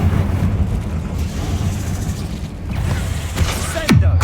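Bombarda and Confringo explosion spells go off in Hogwarts Legacy amid a steady, dense roar of combat noise, ending with a sharper blast near the close.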